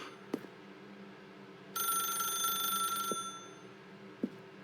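A telephone rings in the video game The Stanley Parable: Ultra Deluxe. One clear electronic bell trill lasts over a second at moderate volume between soft ticking clicks, with no voices.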